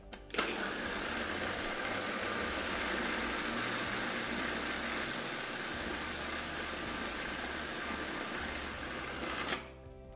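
A kitchen blender runs steadily for about nine seconds while olive oil is poured in, a loud even whir that starts abruptly and cuts off near the end.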